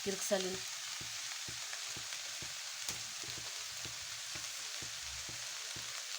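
Chopped onion greens and leaves sizzle in a hot pan while being mixed, with a steady frying hiss and regular soft scraping strokes of a spatula, close and alone.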